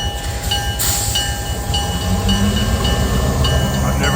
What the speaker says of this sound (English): I've never seen a train stop for a road crossing before.